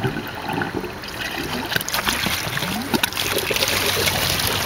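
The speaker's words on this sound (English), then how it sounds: "So when it's ready, you'll see the water coming out." Steady water trickling and splashing from a homemade toilet's drain line, fairly close, with a continuous hiss and small irregular drips throughout; no talking.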